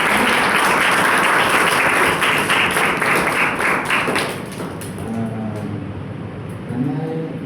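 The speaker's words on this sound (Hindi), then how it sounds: "तालियां जाए अपने लिए।" Dense, loud applause fills a crowded hall, holding steady for several seconds and then thinning and fading toward the end, with faint voices emerging underneath.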